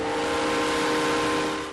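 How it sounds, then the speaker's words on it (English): A steam locomotive in Burlington sounding its whistle, a loud, sustained tonal blast held steadily for nearly two seconds over a rumbling background. "From the sound of steam engines"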